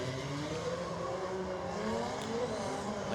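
Ken Gushi's Toyota 86 drift car on Achilles tires at Irwindale qualifying, engine screaming at sustained high revs with wavering pitch and tire noise underneath, loud and continuous without voices.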